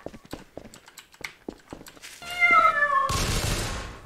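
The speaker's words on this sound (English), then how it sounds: "This guy's killing cats left, right, and center." Cats meow and yowl as they are killed in the Garry's Mod video game, a string of short clicky hits giving way to loud, drawn-out synthetic meows over a harsh burst of noise.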